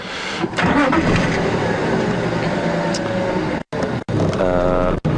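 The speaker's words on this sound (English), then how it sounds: "You might hear a lot of cars starting up and things like that" Vehicles on an evening safari drive at Djuma Game Reserve start up, with loud engine cranking and revving close by that persists throughout, a couple of brief dropouts near the end, and outdoor ambience behind it.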